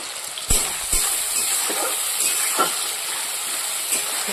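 Onion frying in a wok, a steady close hiss and sizzle of oil with a few sharp clinks of a utensil against the pan.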